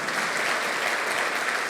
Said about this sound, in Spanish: ¿Cuántos aplauden en el Espíritu?